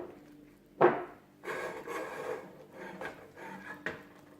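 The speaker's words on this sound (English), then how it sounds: "add the flour straight away and give that a good mix" Flour is worked into thick churro dough with a spoon, giving a close, soft scraping and rubbing sound with a few knocks against the pan.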